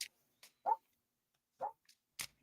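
A dog barks a few short, sharp times at a distance, separate yelps spaced across otherwise quiet air.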